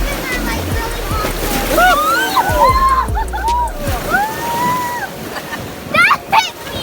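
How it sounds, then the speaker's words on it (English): River water splashing onto a whitewater raft on the Nantahala River, rushing and sloshing close by, with excited voices and shouts over the spray. "you got hit with water"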